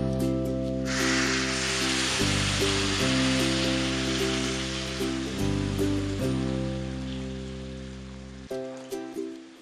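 Masala-coated dried prawns hiss and sizzle steadily in a hot pan once a splash of water goes in, under a loud, continuous steam-like rush with a droning tonal background that cuts out near the end.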